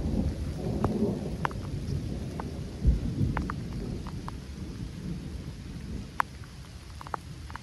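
Heavy rain falls steadily outdoors while low thunder rumbles, swelling briefly midway, with scattered drips and taps on nearby surfaces.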